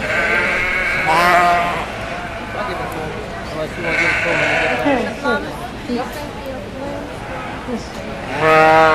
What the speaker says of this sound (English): We're looking now at our pairs of yearling ewes.